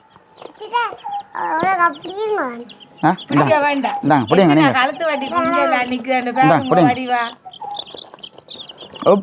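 Chickens and chicks cluck and call repeatedly close by, while a person talks over them throughout.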